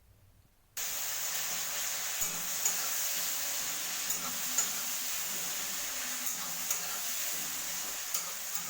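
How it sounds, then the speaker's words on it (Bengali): Chopped onions drop into hot oil with whole garam masala, dry chilli and bay leaf in a kadai, setting off a sudden, loud, sustained sizzle with light crackles for a dhaba-style chicken curry. "কড়াইতে এবার কুচনো পেঁয়াজগুলো দিয়ে দেব"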